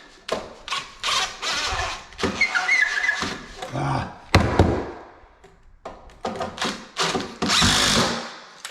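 A power drill drives screws into stair trim as it is held plumb, with repeated whirring bursts and bumps of handling between pauses, close and loud.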